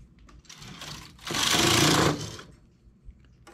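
A knitting machine knits a 2x2 rib scarf, its carriage giving one loud, dense sliding rasp that swells for about a second, set between quieter mechanical clicks and shuffles, with no voices.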